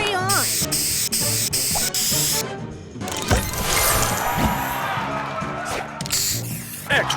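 A spray booster activates in a video game, a loud hissing spray burst rising out of busy, clanking game sounds and music, with short electronic effects before and after.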